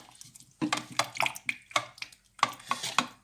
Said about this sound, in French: Et vous allez mélanger avec une petite cuillère, correctement quand même.